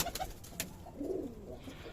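At a Giribaz and racing pigeon farm in Rajshahi, a pigeon gives a brief low coo nearby, faint and soft, with a few light taps before it.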